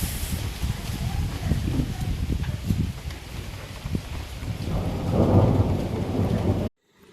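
Heavy rain and wind in Balangir: a dense, roaring downpour with low rumbling gusts and a swell of stronger wind near the end before the sound cuts off abruptly.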